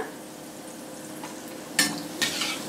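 Dough frying in hot oil over a medium flame, a steady soft sizzle that swells into two brief louder bursts of bubbling as it puffs up.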